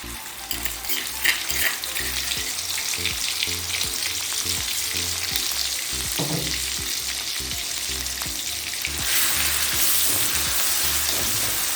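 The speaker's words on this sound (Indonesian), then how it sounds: "Saya akan tumis bumbu" Coarsely pounded spice paste for a simple sweet-soy chicken dish sautés in hot oil, a dense, close frying crackle with stirring scrapes, growing briefly louder and brighter toward the end, no speech.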